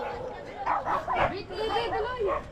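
A group of dogs barks in quick, overlapping bursts nearby, mixed with background chatter from people.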